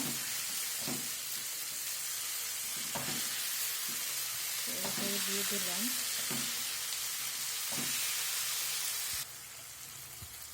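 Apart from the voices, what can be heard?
onions and tomatoes frying and stirred in a pan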